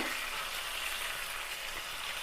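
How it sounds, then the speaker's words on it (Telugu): A steady, bright sizzle of spices and curry leaves crackling in hot oil for a tempering over yogurt, close and continuous, with no voices. "ఆయిల్ హీట్ అయింది పోపు దినుసులు వేసి"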